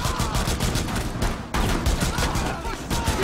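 Dense gunfire fills Rainbow Six Siege gameplay, with rapid overlapping shots in a near-continuous loud barrage and a brief gap midway.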